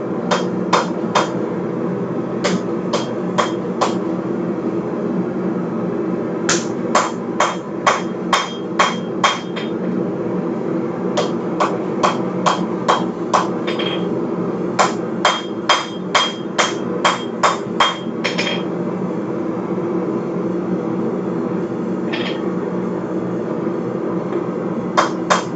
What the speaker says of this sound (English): we're going to hammer this into the edge.